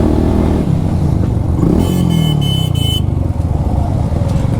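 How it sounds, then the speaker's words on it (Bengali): Loud motorcycle exhausts roar on Islampur Bridge in Chandpur, with a continuous close engine rumble and a short burst of horn honking partway through. "সবার বাইকে একটা না একটা এক্সস্ট আছে। দ্যাটস ওয়াই সবাই একটু বিকট আওয়াজে আর কি একটু মজা নিতে আছে"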